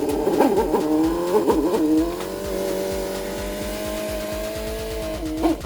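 A Toyota Corolla KE55 engine runs steadily close by, with a couple of quick revs at the start before it settles into an even, continuous idle throughout.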